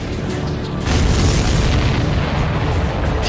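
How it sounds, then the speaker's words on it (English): A supply ship hit by a missile in an Ace Combat 7 mission blows up in a loud, sustained rumbling explosion that swells after a moment and roars on, heavy and close. "Did you see that explosion?"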